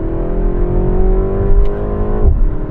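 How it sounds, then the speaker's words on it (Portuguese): BMW M135 with 317 hp, its engine humming steadily at close range with a faint crackle of gear-change pops and a brief surge near the end, no talk over it. "rolam uns pipoquinhos ali de troca de marcha"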